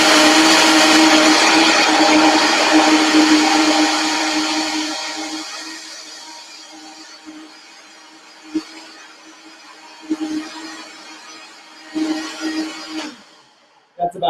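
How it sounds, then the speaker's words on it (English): Loud blender whirring as it blends milk with cashews, steady at first then winding down and fading, followed by quieter clunks and short bursts of handling noise near the end. "I'm going to blend this. It's going to be a little bit noisy, so just bear with me."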